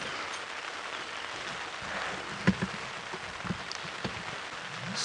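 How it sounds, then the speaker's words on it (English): Steady rain falls during an early-morning safari drive at Nkuhuma in the wild, a constant soft hiss with a few sharper nearby drops and taps. "Rain's coming down nicely."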